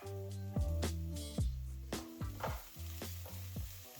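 Garlic and ginger fry in a pan with browned onions, a steady close sizzle broken by repeated scrapes and clanks of a utensil stirring against the pan.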